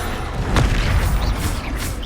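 Spell-casting blasts in Hogwarts Legacy: a dense, rumbling wash of deep booms and impacts, loud and continuous, with no clear gaps between hits.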